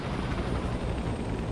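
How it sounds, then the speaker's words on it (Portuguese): Helicopters in the video game Infamous Second Son: a brief, steady, low rotor rumble and wash at moderate level, with no talking. "Dois helicópteros."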